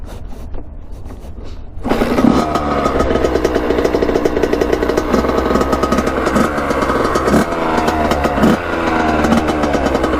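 A Kawasaki KX80 two-stroke dirt bike fires up after a quiet moment and then idles loudly up close as it warms, a rapid buzzing beat with occasional small blips of throttle.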